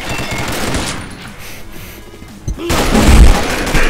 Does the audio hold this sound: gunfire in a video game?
yes